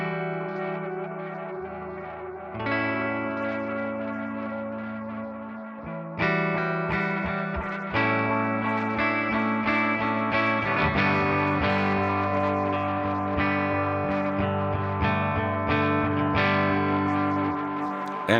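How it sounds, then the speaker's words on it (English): Guitar through a Source Audio Encounter pedal, its resonant filter cascaded into the tape effect, giving sustained filtered, echoing chords and notes with a shifting, swirling tone, close and continuous without talk. "You can run it in cascade, so now the resonant is going into the tape."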